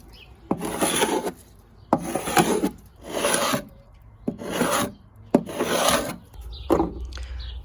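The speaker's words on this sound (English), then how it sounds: "If you have to scrape your deck, I highly recommend this for getting stuff off." A hand scraper drags across an old stained wooden deck in six rough, rasping strokes, each starting with a sharp attack, loud and close with short pauses between.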